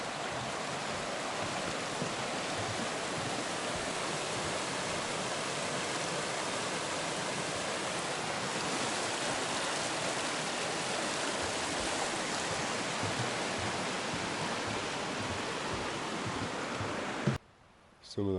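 Hot Springs Creek on the Pacific Crest Trail rushes in a steady, dense wash of flowing water, close and continuous, cut off by a handling bump at the very end.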